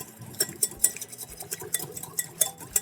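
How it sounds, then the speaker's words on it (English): A whisk beats a salad dressing seasoned with salt and pepper in a bowl for a tuna salad. Quick, close clinks and scrapes come in an uneven rhythm, with no voices. "I'm going to add just a little bit of salt and pepper. And we're going to give that a whisk"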